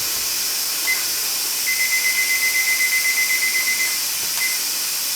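Kitchen timer beeping in a rapid repeated pattern for a couple of seconds during beef stew cooking, with a few short separate beeps before and after, over a loud steady hiss.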